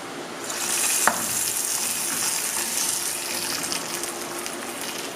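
Hot oil with popped mustard seeds is poured into a traditional Kerala curry, giving a loud, continuous hiss and sizzle after a brief clink, steady for several seconds.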